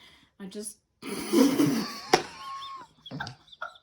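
A person imitates a chicken, making clucking, squawking vocal sounds in short bursts, close to the listener.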